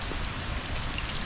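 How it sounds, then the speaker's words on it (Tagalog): Steady typhoon rain pattering on a surface, a dense, even hiss of drops with no voices. "Umuulan."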